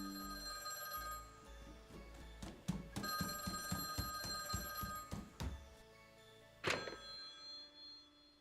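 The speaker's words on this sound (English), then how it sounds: "Phone's ringing." A telephone rings in a steady series of rapid, bell-like trills, then a louder burst near the end, fairly clear over a faint background hum.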